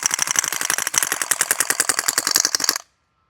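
A North East Sten gas blowback airsoft gun empties a full magazine in one sustained burst of rapid, evenly spaced cracks, loud and close, for nearly three seconds before stopping abruptly into silence.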